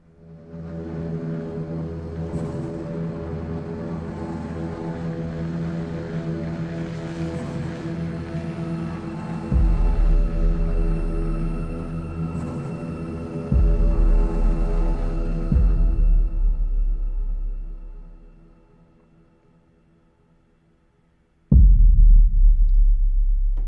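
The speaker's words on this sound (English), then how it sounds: "my favorite part of Gravity are those low deep sub hits" Low, deep sub hits and dark ambient pads from a trailer-music sample library swell and rumble, with heavy booming impacts landing every few seconds before fading to near silence and a final loud hit.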